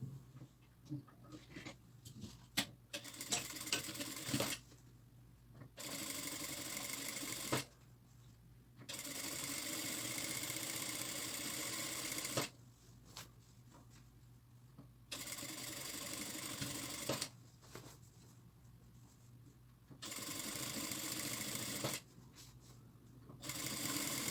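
A sewing machine stitches around the edge of a fabric placemat in a steady mechanical whir, running in several bursts of a few seconds each with short pauses between them.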